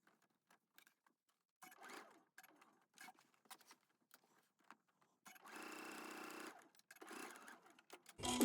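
A sewing machine stitching a shacket sewn from a Simplicity S9388 pattern, running in short quiet bursts, then in a longer steady run.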